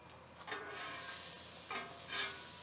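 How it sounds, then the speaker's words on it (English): Noodles sizzling in a hot pan with sharp crackles and pops, a few louder bursts standing out over the steady frying hiss. "Now you hear that? You see that noodle pop there? That means that they are getting ready."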